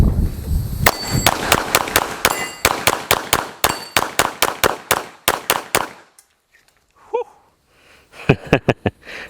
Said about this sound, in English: that's what I'm gonna be shooting at so you guys can hear what I'm doing